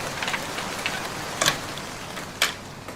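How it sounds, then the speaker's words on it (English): Steady rain falls outside a room, a soft continuous hiss with scattered ticks and two sharper drips or taps standing out. "Oh, the rain! Yes, it's raining."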